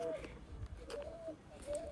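Pigeons on a rooftop coo in soft repeated calls at close range, several short rolling notes over light background noise.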